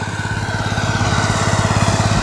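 A VST power tiller's 13 HP diesel engine runs steadily at idle, a rapid, even thumping pulse with a rough mechanical drone, close and loud throughout.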